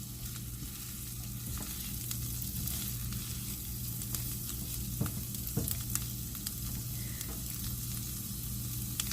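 Asparagus spears sizzle steadily in a hot pan, with scraping and light clatter as they are pushed around and turned over. The frying sounds close and continuous, and no one speaks.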